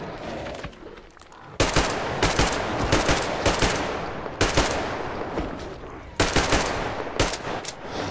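Rapid automatic AK rifle fire in the Metro Exodus video game, several loud close bursts with short pauses between them, echoing over a dim background.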